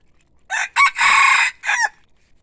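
A rooster crows loud and close in one full cock-a-doodle-doo, broken into several strong bursts, with no voices over it.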